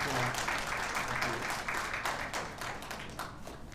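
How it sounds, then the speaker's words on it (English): A crowd applauds with steady, moderately loud clapping that gradually thins out, heard from within the audience. "Round of applause for Dr. John Lim."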